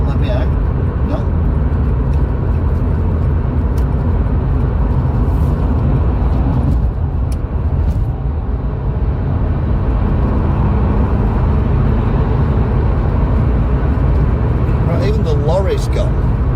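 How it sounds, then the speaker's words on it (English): A car travels along a UK motorway at about 45 mph, a constant low road and engine rumble filling the cabin from start to finish, with a brief higher tone near the end. "We're doing 45 miles an hour on the motorway."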